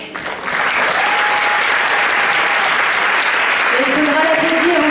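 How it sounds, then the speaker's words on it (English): An audience applauds the choreographer at the Miss Côte d'Or pageant, loud, dense clapping that swells quickly and holds steady, with voices and cheers mixed in. "on peut l'applaudir"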